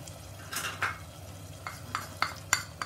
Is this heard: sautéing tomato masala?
yes